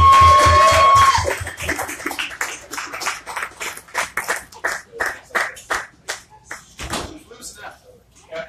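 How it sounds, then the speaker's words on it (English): Audience applause for a singer at a barbecue venue, loud sustained clapping at first that thins into a steady rhythm of individual claps, with voices talking over it. "Give her a round of applause, everyone."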